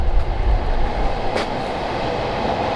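A train rolls along the tracks in a neighborhood near Gōtokuji Temple, a steady close rumble with rattling wheel and carriage noise throughout and no talking.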